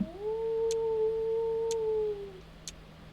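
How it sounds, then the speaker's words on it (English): A beastly howl in a video game, one long sustained wavering cry lasting about two seconds that fades out, followed by faint sparse ticks over a low hum. "Something's howling."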